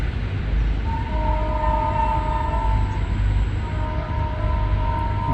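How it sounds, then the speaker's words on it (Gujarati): A train rumbles past steadily, with a low continuous roar and a long sustained horn tone sounding for several seconds. "બાજુમાં રેલવે જાય છે એટલે થોડો અવાજ આવે છે"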